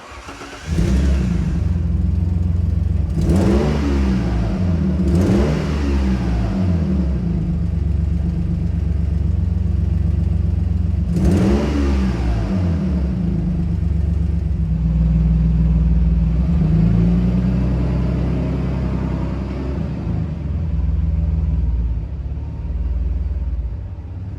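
An Alfa Romeo 156 V6 with a freshly fitted exhaust starts and runs close by, with several sharp throttle blips early on, then settles into a deep, steady idle rumble.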